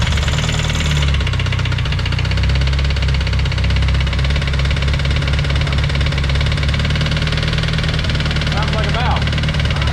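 A 240 car engine runs at a steady, loud idle with a constant valve or rocker ticking, close up throughout.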